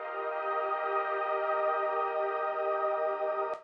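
A stereo music mix plays steadily and loudly, a sustained harmonic tone-rich passage holding evenly before cutting off abruptly near the end.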